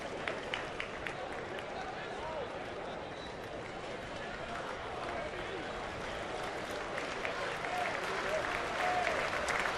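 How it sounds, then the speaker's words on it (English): Baseball fans clap at a Yankees game against the Braves in March 2012 as the Braves are down to their last strike: steady, dense applause with rhythmic clapping from a distant stadium crowd, under faint commentary. "Yankee fans here clapping their hands."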